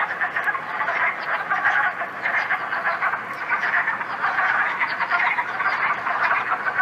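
Male frogs chorus at a spring vernal pool, a dense, steady wall of overlapping trilling calls that pulses slightly and continues without pause throughout, with no voices.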